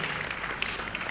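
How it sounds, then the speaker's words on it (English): Brief burst of audience applause at a Social Media Week conference in Lagos, a dense steady patter of many hands clapping close by for about a second. "Round of applause for yourselves."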